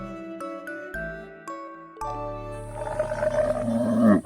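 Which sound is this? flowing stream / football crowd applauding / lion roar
lion roar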